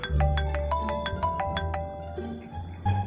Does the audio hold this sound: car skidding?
no